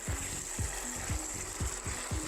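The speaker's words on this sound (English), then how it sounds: "make sure that you're mixing this well" Spiced ground beef filling for chimichangas is stirred and mixed in a pan, with a soft sizzle underneath and a steady rhythm of scraping strokes repeating about twice each second, close by and moderately quiet.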